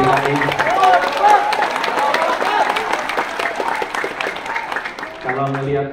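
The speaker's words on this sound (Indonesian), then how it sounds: "ini tepuk tangan ini tidak berhenti sampai di sini" An audience applauds at a PPP party convention in Ancol, a steady wash of clapping beneath a loud speaking voice over a public address system.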